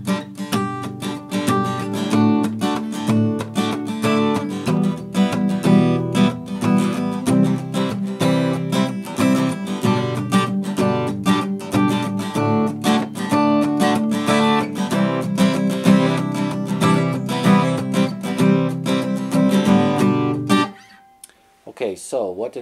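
Palm-muted strumming on an acoustic guitar drives a steady, chunky rhythm for about twenty seconds, loud and close, then the strings ring out and fade at the end.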